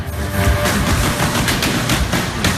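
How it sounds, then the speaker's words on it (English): Rapid bursts of automatic gunfire crackle continuously over a dense, noisy background at a concert during the November 2015 Paris attacks, with repeated sharp cracks throughout. "the gunfire drowns the music"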